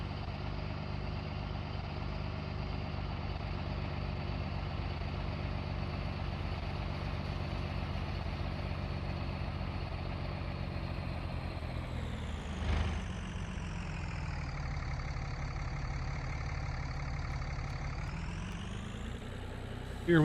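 A tractor engine idles steadily in Farming Simulator 19, a continuous low rumble at constant loudness with a brief pitch dip and swell near the end, no talk over it.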